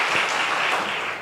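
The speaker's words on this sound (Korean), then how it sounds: "또 매주 우리 섬겨주시는 우리 성가들을 위해서도 박수 한번 하겠습니다" Church congregation applauding during a Sunday afternoon worship service, a steady dense wash of clapping filling the room for a brief moment with no voices over it.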